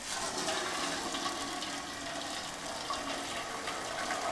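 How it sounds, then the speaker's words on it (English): Maple syrup, boiled for two days, pours steadily through cheesecloth in a colander into another pan, a continuous rushing liquid stream, close and alone. "take this maple syrup that's been boiling for the past 2 days and strain it through some cheesecloth in this colander into another pan"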